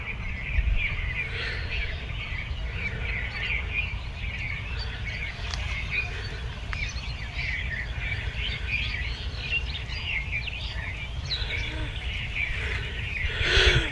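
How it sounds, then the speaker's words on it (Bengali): Small birds chirp and twitter from distant bushes around a village in hot midday sun, a continuous busy chatter over a low, steady wind-like rumble. "পাখির কিচিরমিচির শোনা যাচ্ছে দূরে ঝোপঝাড় থেকে।"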